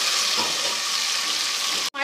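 Tomato paste fries in a nihari pot while being stirred, a steady close sizzle running almost continuously before cutting out briefly near the end.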